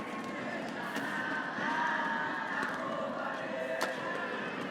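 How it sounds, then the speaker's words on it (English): An Indonesian crowd cheers and murmurs at a mixed doubles badminton match, a steady, fairly faint roar with occasional sharper shouts. "Indonesian crowd getting into this already."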